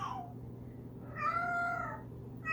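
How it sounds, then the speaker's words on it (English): House cat meowing up close, a drawn-out rising and falling meow followed by the start of another, alone without talk. "This damn cat."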